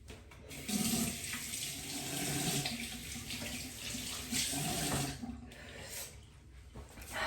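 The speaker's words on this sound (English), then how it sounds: "So I'm gonna go ahead and rinse." Tap water runs steadily into a sink while someone rinses their face, a continuous close splashing hiss with slight surges in flow.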